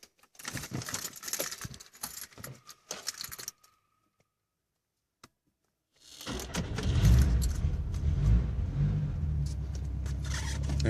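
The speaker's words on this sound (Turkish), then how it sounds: "Arabamızı bir çalıştıralım da." A car is started after keys jangle and rattle near the ignition; a short silence follows, then the engine catches and settles into a steady low idle rumble, with no talk.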